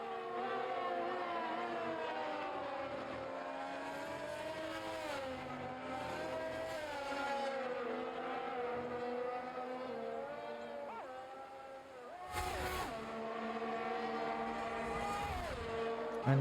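Race cars, a Ferrari among them, scream past at Monza with sustained high engine whines that rise and fall through gear changes, loud and continuous, including a sharp burst of noise partway through.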